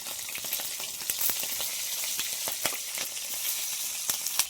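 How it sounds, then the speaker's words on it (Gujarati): Stuffed green chillies fry in hot oil for bhajiya, giving a continuous close sizzle broken by sharp pops and crackles at irregular intervals, with no talk. "એટલે હવે આપણે મરચાંને તળી લઈશું"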